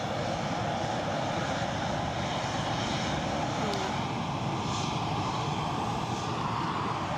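A steady, fairly loud engine drone from an aircraft flying at about 1,000 feet near Edinburgh, holding evenly through the whole stretch with no voices over it.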